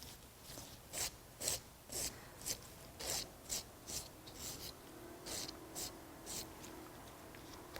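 Fingernail being filed and shaped during a manicure nail-care session, a soft, close, dry rasping in short rhythmic strokes, about a dozen evenly spaced passes, faint and without talk.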